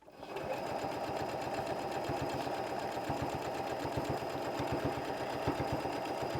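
A sewing machine fitted with a ruffler foot runs steadily and continuously while attaching a ruffle to fabric, its rapid rhythmic stitching close and even throughout.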